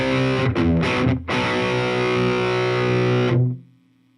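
A distorted electric guitar plays part of a piece: a couple of short choppy strikes, then a loud, sustained, fuzzy chord that rings for about two seconds before cutting off.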